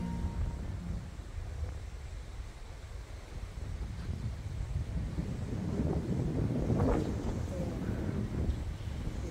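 Wind gusts over a rice paddy during heavy rain, a loud, steady broadband rush with low rumbling buffeting that swells toward the middle and stays strong to the end.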